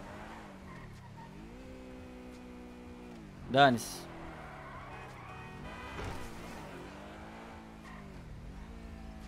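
Cars in GTA 5 rumble along in steady traffic, with a sharp tire skid squealing briefly about a third of the way through. Engine drones continue beneath, and someone talks over the driving.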